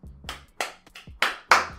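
Hands clap about five times in an irregular rhythm, sharp and close, the last two claps the loudest, as applause for a song.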